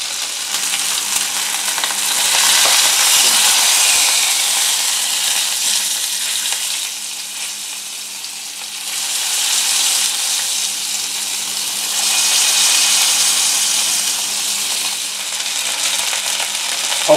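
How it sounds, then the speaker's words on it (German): Beef hip steak cordon bleu sears in a hot pan with a loud, steady sizzle that swells and eases in slow waves, close by, with no talking. "sobald die beiden Seiten angebraten sind, kommt dieses Steak Cordon Bleu in den Ofen"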